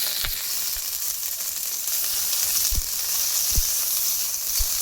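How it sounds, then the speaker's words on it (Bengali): Chopped okra frying in hot oil with five-spice seeds and dried red chillies, a steady bright sizzle running throughout with a few soft low knocks from stirring. "একটুখানি গরম হওয়ার পর দিয়ে দেব কেটে রাখা ঢ্যাঁড়সগুলো"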